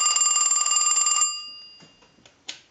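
A Western Electric Trimline wall telephone rings with a fast, loud metallic bell trill for just over a second, then stops, leaving faint clicks and a soft thump after it.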